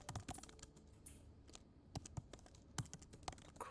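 Irregular keystrokes on a computer keyboard as an annotation is typed into Tableau, close and soft, with clustered taps separated by brief pauses.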